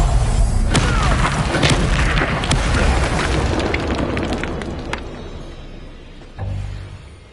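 Confringo blasting spell explosions in Hogwarts Legacy, a run of loud booming bursts with sharp cracks that fade toward the end before one last thud.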